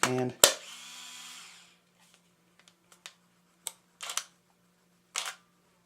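A sharp mechanical shutter snap and whirring film advance from a Nikon N65 film camera, followed by a handful of quieter clicks and a few louder shutter releases spaced apart, close up.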